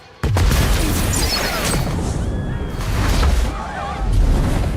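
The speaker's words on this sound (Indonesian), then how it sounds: "bom yang dibuat Reese meledak secara akurat yang diarahkan tepat di sebelah mobil Steve" A bomb detonates right beside a car in an action film, a loud booming blast that erupts suddenly and rolls on as a dense roar of debris and rumble for several seconds.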